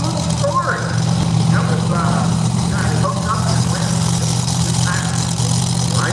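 A super modified dual drive pulling truck, the corn burner, idles at a truck and tractor pull in Rockwell, Iowa, a low, steady engine drone beneath an announcer talking over a loudspeaker.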